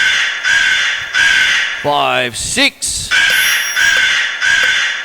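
Crow caws break in among steady birdsong, then a voice counts aloud over the continuing calls.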